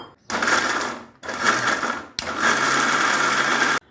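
Kitchen mixer grinder whirring through peeled almonds and milk in a jar, three loud bursts of steady motor grinding with short pauses between, the last one longest.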